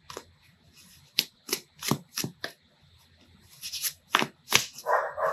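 A deck of cards is shuffled for a tarot-style pick-a-pile reading, a spaced series of crisp riffling snaps and flutters that grows denser toward the end, close and fairly quiet with no talking.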